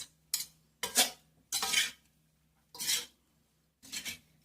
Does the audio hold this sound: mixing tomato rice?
yes